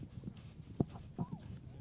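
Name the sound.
horse hooves clip-clopping during a horseball match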